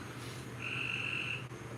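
A single frog croak from a video game sounds as a drawn-out, raspy tone lasting close to a second over faint background ambience, with no talk.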